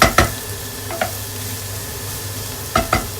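Onions frying in a pan, a soft steady sizzle broken by a few sharp scraping stirs at the start and near the end, close and without talk.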